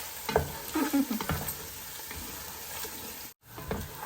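Ginger garlic paste frying and being stirred for tomato rice, a soft close sizzle with spoon scrapes and clatter, cut by a brief dropout near the end.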